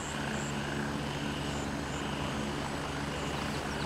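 Called-in helicopter in a video game: a constant, loud, broad rotor and engine roar with a faint high whine, holding steady throughout with no talk.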